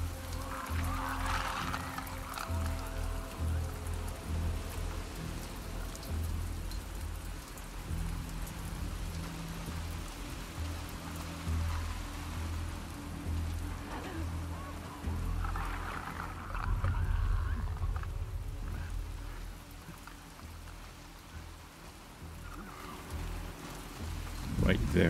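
Steady rain pours down in The Last of Us Part II, a dense, continuous hiss of drops on surfaces with a low rumbling bed beneath, swelling slightly louder partway through.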